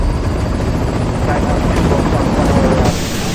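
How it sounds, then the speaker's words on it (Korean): An S-64 helicopter flies over a flooded city, its rotor and engine making a loud, steady, dense roar that fills the whole stretch. "뒤에 있는 S-64 헬기를 타고 광주의 하늘로 올라가 보겠습니다."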